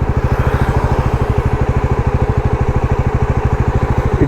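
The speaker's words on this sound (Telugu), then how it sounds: "సౌండ్ మాత్రం చాలా క్రేజీ ఉంది ఈ బైక్ది" A 2024 Bajaj Pulsar NS400 motorcycle idles close by with a loud, steady, evenly pulsing thump from the engine and no talking.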